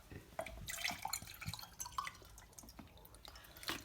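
Pinar and Evian bottled water splashes and trickles into a container with irregular drips and gurgles, fairly close and quiet, with no voices.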